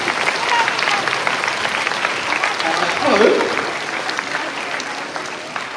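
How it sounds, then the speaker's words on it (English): An audience at a school's final assembly applauds: dense, steady clapping from a large crowd fills the whole stretch at a strong, even level, with only a brief word from a voice. "could you give everybody a huge round of applause?"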